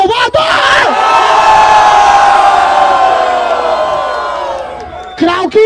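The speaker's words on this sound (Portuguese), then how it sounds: "Barulho pra Ravel em Salvador" A large live audience at a freestyle rap battle event in Salvador cheers and shouts in one loud sustained roar that slowly fades, then a voice cuts in at the end.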